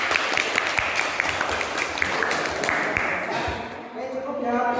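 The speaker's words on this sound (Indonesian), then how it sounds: "Oke, bagus sekali, tepuk tangan yuk." A class of students clapping hands together during a floor gymnastics lesson, a brisk crowded patter of claps that thins out and stops, with voices rising in the room afterward.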